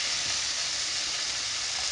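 Cooked pasta dropped into a hot pan of bacon, giving a steady, bright sizzle and hiss of frying that stays even and fairly close throughout.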